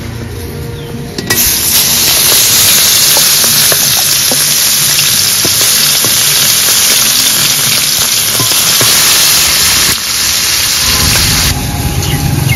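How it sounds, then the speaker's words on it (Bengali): Pieces of katla fish drop into hot oil, and a loud, sustained sizzle and crackle starts after a brief pause and runs on close by with no talking. "মাছ তেলে ছেড়ে দেব।"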